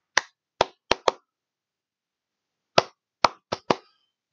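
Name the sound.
imitated Terminator clap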